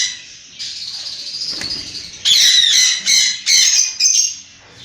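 Yellow parrot in a bird house giving a run of loud, harsh, close squawks, first drawn-out calls and then several short, sharp bursts in quick succession.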